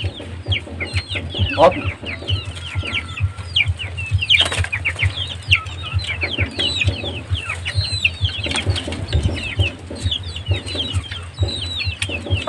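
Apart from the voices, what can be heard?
chickens and chicks clucking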